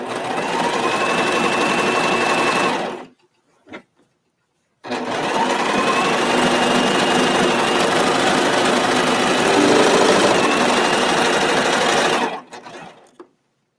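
A serger sewing machine gathering fabric runs in a steady, loud mechanical whir, stopping briefly with a small click before starting again for a longer continuous run.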